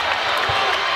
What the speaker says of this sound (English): You can hear the crowd, the Kentucky crowd, starting to come to life.